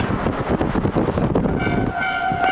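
A loud train rumbles past close by, with steady clattering and a sustained horn tone sounding toward the end.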